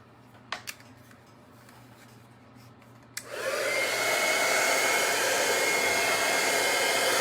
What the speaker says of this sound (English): plug your ears again because I'm gonna emboss